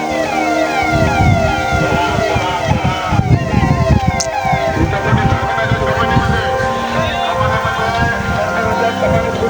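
Several loud police vehicle sirens wail in overlapping rising and falling sweeps, close by, over engine noise and a busy crowd at the Malegaon Yatra procession in Nanded district, India.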